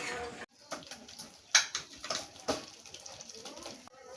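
Cooked taro stems poured into a basket to drain, with water splashing and trickling through in uneven bursts at close range, ending with a few light clatters.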